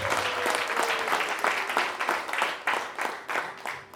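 A church congregation claps in praise, loud and roughly rhythmic in a steady beat of group claps that carries on throughout.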